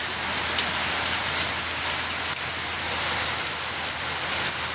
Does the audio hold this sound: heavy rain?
yes